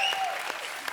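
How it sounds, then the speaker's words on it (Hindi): Studio audience applause on a TV comedy talk show as guests are introduced, a brief loud wash of clapping with a few sharper claps standing out, with music tones mixed in. "आपकी जोरदार तालियों के बीच"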